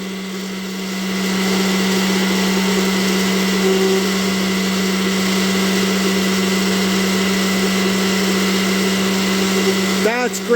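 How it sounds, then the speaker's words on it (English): A Black and Decker valve refacer grinder spins up and runs with a loud, steady motor whine and strong low hum, close by, ending in a brief scraping rattle. "So we're going to fire up the grinder first."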